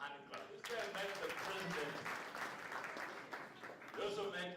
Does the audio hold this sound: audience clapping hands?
yes